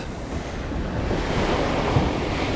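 A Hallberg-Rassy 54 sailboat motor sailing on just the main through choppy Bahamas seas in fresh wind, with steady loud broadband rush of waves and wind buffeting the microphone, a slight thump near the end, no voices.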